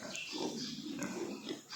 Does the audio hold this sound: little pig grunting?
yes